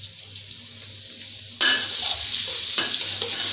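Shallots sautéing in used frying oil left over from frying tofu, for a tauco dish: a quiet start with faint stirring, then a loud, steady hot sizzle from about 1.6 s, with a second burst near 2.8 s.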